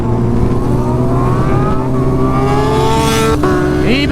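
A Kawasaki Ninja H2 and a turbocharged Suzuki Hayabusa race at top speed on the street, engines screaming loud and near with rising whine that climbs steadily, then a sharp shift as one pulls ahead.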